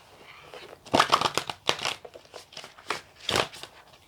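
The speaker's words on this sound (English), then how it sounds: "If I can actually shuffle the deck today." A deck of oracle cards is shuffled by hand in bursts of papery riffling and crinkling, with a few distinct flurries separated by short pauses, close and fairly quiet.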